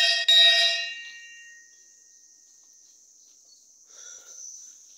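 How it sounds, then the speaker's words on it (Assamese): A metal temple bell at Burha Guhai Than in Guwahati is struck once, ringing out clearly and close, then decaying over a second or two into a quiet background with faint insect-like chirping. "ঘণ্টাটো বজাই দিলোঁ"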